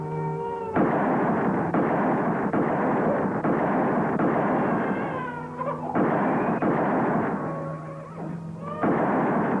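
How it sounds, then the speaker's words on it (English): Repeated loud gunshots in an old Western film, fired to shoot a lock off, come as sharp bursts at a steady rhythm over about ten seconds, with a musical score playing underneath. "Shoot the lock off."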